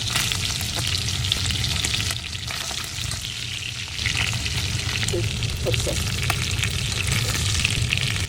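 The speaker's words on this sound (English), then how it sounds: "I'm adding the already cooked chicken for a quick fry." Loud, steady sizzling of cooked chicken frying in a hot pan, with a few stirring and scraping noises, no one talking.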